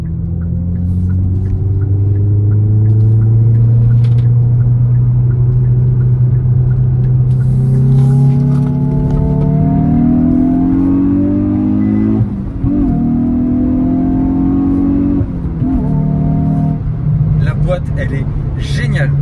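A Hyundai i20N circles a roundabout with a loud, close engine drone that climbs and falls through the rev range as it shifts, while someone talks over it throughout.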